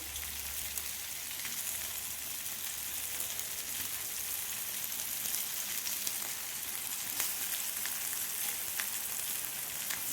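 Boiled potatoes frying in a pan of oil while fish curry is being cooked, a steady close sizzle with scattered small pops and crackles and no talking.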